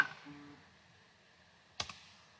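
A computer mouse gets a right click in a quiet room: two quick, crisp clicks close together, standing alone against faint background hiss.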